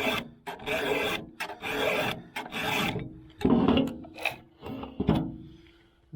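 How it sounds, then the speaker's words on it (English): A good file rasps across a chainsaw chain in repeated rhythmic strokes, each a close, gritty scrape of about half a second separated by brief pauses, heard alone without talk. "This here obviously is a good file. You can hear it cutting"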